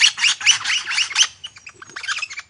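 A lyrebird gives bright, harsh squawking calls in rapid bursts, loud and close, then thinner scattered chirps as the mimicry continues.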